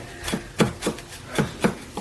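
A Misen 8-inch high-carbon chef's knife chopping onions on a board: about five distinct, evenly spaced thuds of the blade striking through, close and clear, with no voices.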